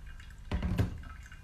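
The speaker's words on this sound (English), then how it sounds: "when you're pouring and you're trying to get close to that bed like I am now, for a much slower controlled pour" A gooseneck kettle pours hot water slowly and close over a coffee bed in an Origami dripper, giving a soft trickling splash of about half a second, fairly faint, with no talking.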